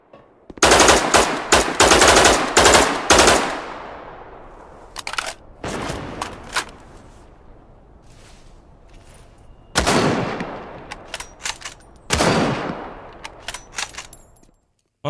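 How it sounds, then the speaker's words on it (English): Weapon fire in the survival game Dead Matter: rapid automatic bursts up front, then separated single shots and short volleys, each with a long reverberant tail decaying into quiet between them. "Gunshot tails, or weapon audio, was showcased in a developer video."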